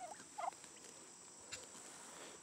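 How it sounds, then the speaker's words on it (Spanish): On a ranch, a flock of turkeys gobbles faintly at a distance, with a couple of short warbling calls over a quiet outdoor hush and a steady high insect-like whine. "Chingo de guajolotes, mira."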